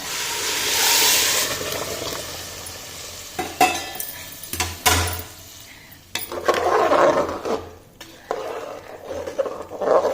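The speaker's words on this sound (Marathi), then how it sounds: "आता यावर पाणी सोडते मी। गरम पाणी सोडायचं केव्हाही भाताला।" Hot water is poured onto rice in a pot of masala rice (tuar sole bhaat), giving a loud hissing rush at first, then scattered clanks and bubbling splashes.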